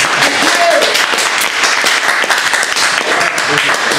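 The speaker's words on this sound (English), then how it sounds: "I appreciate the round of applause." Audience applause closes a music industry lecture session, a steady, dense wash of many hands clapping at full strength for about four seconds, with scattered voices mixed in.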